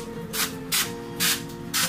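Aerosol cooking spray is sprayed over raw prawns before air frying, heard as four short hissing bursts at a steady, even pace, each lasting a fraction of a second.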